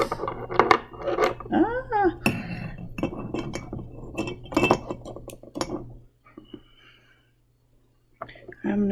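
Metal tongs clinking against glass and crystals, a run of bright, close taps and clinks in the first six seconds, then near silence before a final few clinks, with a person speaking softly over them.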